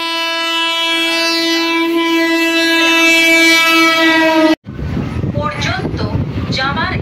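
A Mecheda–Santragachi local train pulls away from a station with a long, loud horn blast, then gives way to rumbling wheels and carriage clatter running steadily close by.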